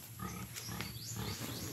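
Pigs on a farm grunt and squeal continuously at close range, several animals overlapping amid steady background noise.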